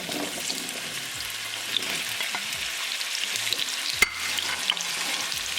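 Arbi (taro root) slices frying in a pan, giving a steady close sizzle with stirring scrapes as the pieces are kept moving and one sharp clack of utensil on pan.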